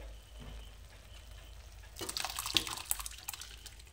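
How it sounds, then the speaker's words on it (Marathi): Cooked vegetables are poured into sautéed pav bhaji masala, landing as a soft, wet splatter and slosh about halfway through, then a few faint drips and clinks. The sound is quiet and close, and no one speaks. "त्याच्यामध्ये आपण शिजवून घेतलेल्या ज्या भाज्या आहेत त्या ओतून घेणार आहोत।"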